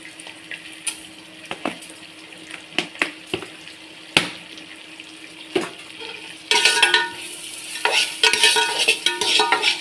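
Onions sauté with salt in a pan, giving a faint steady sizzle broken by sharp scraping clicks from stirring, then louder bursts of frying and scraping toward the end, with no one talking.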